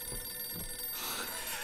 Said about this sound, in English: the game scares you with a phone ringing